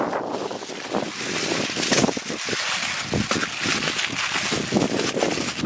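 Wind gusts roar steadily across an outdoor village cooking fire where tuna is being cooked, a close, broadband rushing with brief surges and no talking.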